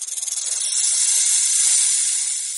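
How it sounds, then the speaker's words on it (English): A snake hisses in one long, steady, breathy exhale that starts with a slight flutter and then holds even and fairly loud for a few seconds, with no other sounds. "Snake."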